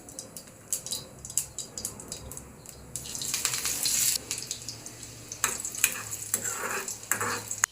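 Garlic is dropped into hot oil with cumin in a pan and sizzles, with bursts of loud frying crackle and stirring scrapes nearby.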